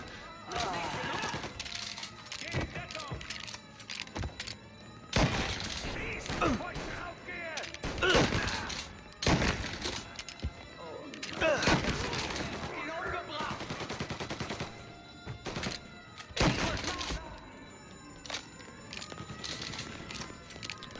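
Gunfire in the video game Mafia: repeated sharp bursts of shots and rapid automatic fire ring out loudly throughout, mixed with thuds and game clutter, with occasional talk over the shooting.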